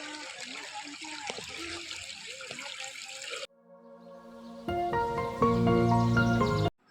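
Water of the Bagad river flows steadily at the Bagdeshwar Mahadev temple near Bagdana, a dense even rush for the first half before tonal music and bell-like ringing take over.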